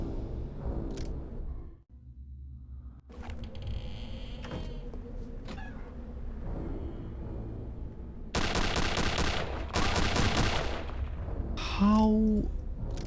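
Gunfire in the video game Return to Castle Wolfenstein, with scattered shots early on and then dense bursts of automatic fire in the later half, loud and close.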